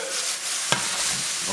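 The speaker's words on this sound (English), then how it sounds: "Okay, want to mix these around a bit. Just like that, yeah. Toss them a little bit." Pole beans and onions are tossed in a hot pan, giving a continuous sizzle broken by one sharp clatter of the pan or utensil partway through.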